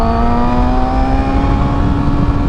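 A 1000cc motorcycle accelerates hard in second gear with the throttle twisted, its engine note loud and close, climbing steadily in pitch as it revs, with heavy wind rumble underneath.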